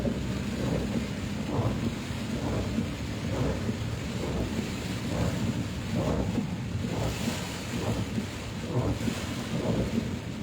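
Heavy rain during Cyclone Biparjoy in Kishangarh, a steady, rushing downpour with wind buffeting on the microphone, loud and continuous with periodic gusty swells.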